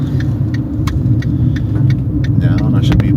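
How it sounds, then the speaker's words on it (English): A car pulls in through the last bend of a big S-shaped road to park, its engine a steady low rumble close by, with light clicks and jingles, keys or cabin rattles, ticking over the top. "So I'm pulling in"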